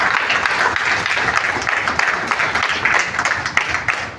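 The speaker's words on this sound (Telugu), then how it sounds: "చప్పట్లు గట్టిగా, చాలా గట్టిగా." Sustained audience applause for an MDRT insurance agent being honoured at a training event, dense and steady clapping throughout with no pauses.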